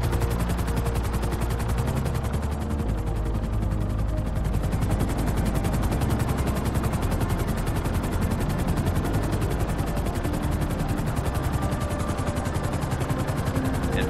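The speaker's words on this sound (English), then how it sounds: "I'm going to hop to Trevor and use his helicopter" Helicopter in the video game GTA 5, a loud, steady rapid rotor chop holding evenly throughout with no pause and no voices.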